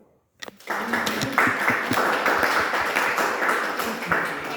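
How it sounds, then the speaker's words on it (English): Audience members at a mental health talk at Uganda Martyrs University break into clapping after a short silence, a dense, steady applause continuing to the end with voices mixed in. "Can we clap?"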